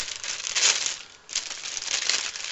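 Plastic packaging of princess-themed cake picks crinkles as it is opened, close, crisp rustling with a brief pause midway before more crumpling.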